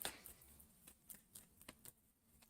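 Tarot cards being shuffled, heard as a quiet series of short crisp riffling bursts in an irregular rhythm, close by and alone.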